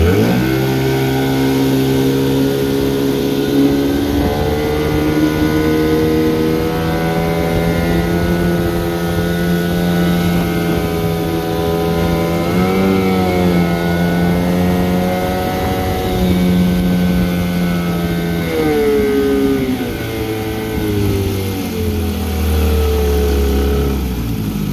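A 1974 Johnson 15hp outboard motor running in forward gear on a pond test, a loud continuous droning buzz with slight pitch shifts as the throttle changes, steady throughout with no talking.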